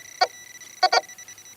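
A Tesoro Golden Umax metal detector sounding short electronic beeps, one single, then a quick double, then another single, crisp and close against a faint steady hum.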